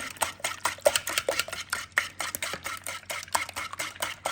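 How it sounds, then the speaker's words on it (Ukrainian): A whisk beats eggs with sugar and salt in a bowl, making quick, rhythmic scraping and clinking strokes against the sides, close and clear without talk. "Тепер це все гарно вінчиком перемішуємо. Перемішуємо наші яйця з цукром, сіллю."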